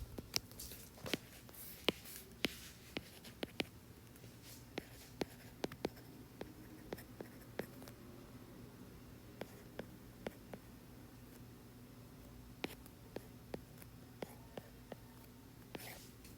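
A pen scratches out a physics formula by hand on paper, with soft irregular taps and strokes close by, faint and quiet with a little murmured speech.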